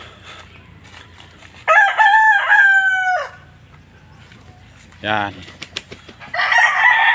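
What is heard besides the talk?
chicken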